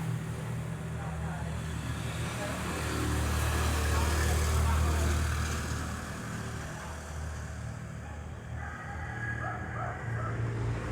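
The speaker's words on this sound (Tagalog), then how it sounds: "Kung kaya napapansin nyo, may naririnig kayong mga sasakyan." Vehicles pass on a road very close to a backyard garden in the Philippines, a low engine rumble swelling to a peak mid-clip and fading again, steady in the background with a rooster faintly audible.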